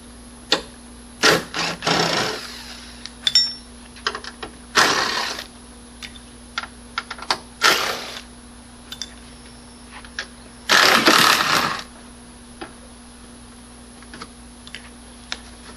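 Makita power tool spinning off 10 millimeter bolts on a 2010 VW Jetta front end, several short, loud whirring bursts of one to two seconds each, with scattered clicks and pauses between them.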